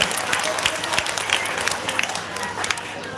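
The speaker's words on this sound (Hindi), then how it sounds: "उनके लिए जोरदार ताली बजा करके आप सब लोग स्वागत करें" Crowd clapping loudly and steadily to welcome a guru ji at a Satnami community groundbreaking ceremony in Bilaspur, with faint voices underneath the continuous applause.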